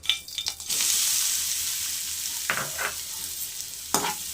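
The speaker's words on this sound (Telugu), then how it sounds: "ఎర్రగా వేయించుకోవాలండి కొబ్బరి గోల్డ్ కలర్ వచ్చేదాకా బాగా వేయించుకోవాలండి" Grated coconut fries in ghee in a pan, giving a steady close sizzle with a few scraping stirs at the start and again near the end.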